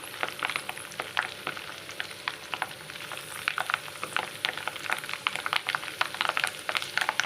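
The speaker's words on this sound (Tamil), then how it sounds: "கொஞ்சம் கருவேப்பிலை இதே ஆயிலில் நான் போட்டு நான் கொஞ்சம் ஃப்ரை பண்ணி எடுத்துக்கிறேன்" Curry leaves fry in hot oil for a fish kebab dish, giving a steady close sizzle with rapid crisp crackles and pops throughout.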